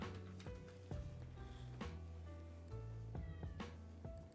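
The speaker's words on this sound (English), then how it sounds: "Why are you meowing?" A house cat meowing repeatedly, several drawn-out close meows in a row over a steady low background hum, with no talk.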